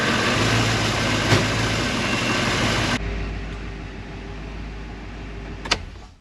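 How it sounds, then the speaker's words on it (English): A 1985 Porsche 928 S Euro, with a replaced fuel pressure regulator and dampers and a bogging fault, running close up with a steady engine drone that drops to a quieter idle, then a sharp click near the end. "Go ahead and start it up, see if it looks okay, and then go for a drive."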